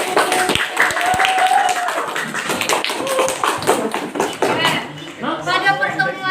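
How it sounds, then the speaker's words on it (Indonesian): A class of students claps in a short burst of tapping applause, mixed with voices talking over it and a brief tonal chime toward the end. "Oke bagus, tepuk tangan."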